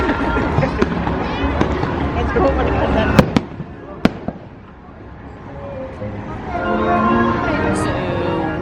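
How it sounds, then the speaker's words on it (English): Fireworks burst over a Disney theme park in Toy Story Land, with several sharp cracks and booms standing out above crowd noise and talk, then a quieter stretch of crowd murmur as the show ends. "Oh, fireworks."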